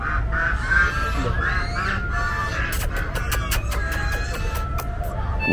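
Geese honk in scattered calls at Science City, Kolkata, over steady background rumble, with a burst of sharp clicks and knocks toward the end.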